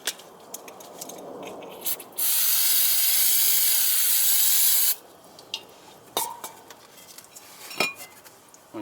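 A fresh can of brake cleaner sprays onto a 2013 Lexus IS250 brake rotor in one loud, steady hiss lasting nearly three seconds, framed by clinks, taps and metallic handling noises up close.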